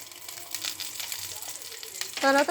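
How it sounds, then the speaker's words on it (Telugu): Boiled eggs deep fry in hot oil, a continuous crackling sizzle with scattered pops, capped by a short tonal sound near the end. "ఉడకబెట్టుకున్న తర్వాత ఇలా డీప్ ఫ్రై చేసుకుంటేనే బాగుంటుంది ఎగ్స్"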